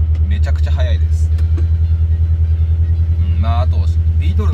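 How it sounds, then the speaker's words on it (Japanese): Air-cooled VW 1303S Super Beetle with a tuned 2007cc engine driving, a steady, loud, low engine drone inside the cabin with someone talking over it. "2007cc っていうエンジンを今積んで走ってるんですけど"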